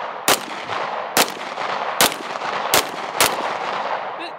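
Five sharp CZ Shadow 2 pistol shots ring out at roughly even intervals over a steady background hiss, each one loud, close and abrupt.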